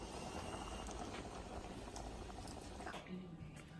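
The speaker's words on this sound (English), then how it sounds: "Now I'm going to take the boiling potatoes and put them on medium heat and let them simmer for 15 minutes" Potatoes simmer in a pot of boiling water on a stove over medium heat, a steady, dense bubbling and hiss that runs throughout at low volume.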